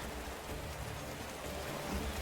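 Steady heavy rain pours in a dark scene of an anime-style mobile game, a dense, even hiss of drops with no voices.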